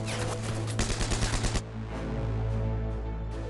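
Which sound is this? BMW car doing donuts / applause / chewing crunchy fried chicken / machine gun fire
machine gun fire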